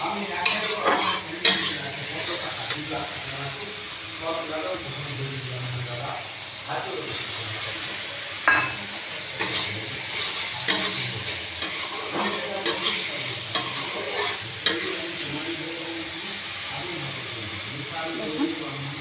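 Spice masala fries in oil in a pan for a vegetarian dish. Constant stirring and scraping sound close over a steady hiss and sizzle, with a voice talking faintly in the background.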